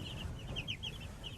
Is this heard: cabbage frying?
no